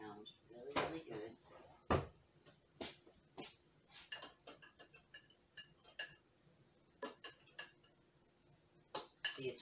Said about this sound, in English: I'm gonna stir this around really, really good